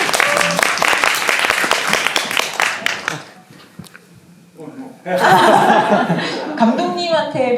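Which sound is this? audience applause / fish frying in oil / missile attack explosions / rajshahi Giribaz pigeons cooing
audience applause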